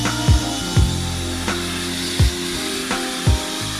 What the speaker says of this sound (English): And you can hear the sand in there, or it sounds like sand anyway